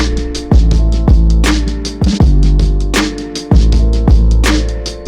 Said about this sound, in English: the filtered one sounded like this